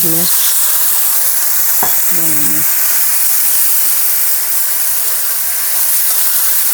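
Loud, constant hissing sizzle of water hitting a hot pan of spiced chickpea curry, with a brief voice and a few clinks at the start.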